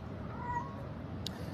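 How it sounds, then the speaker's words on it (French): A passing cat lets out a faint, brief meow in the background over a low, steady room hum, with a small sharp click shortly after. "c'est un chat qui passe"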